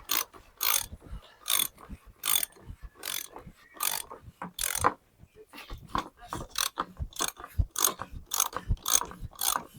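A torque wrench ratchets on a Volkswagen Polo 6R, giving crisp, close clicking bursts in a steady back-and-forth rhythm, each pull a quick series of sharp metallic ticks with brief pauses between strokes.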